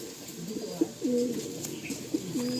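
Racing pigeons for sale coo close by, several low rolling calls in a loose rhythm with brief quiet gaps and a faint room hum beneath.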